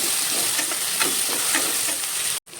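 Asafoetida and coriander roast in a hot pan for misal, a close, loud, continuous sizzle with light stirring scrapes that cuts off abruptly near the end.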